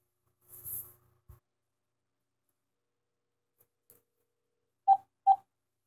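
Telephone number dialed for a prank call: two distinct touch-tone beeps near the end, clear and close, after a few faint handling clicks and near silence.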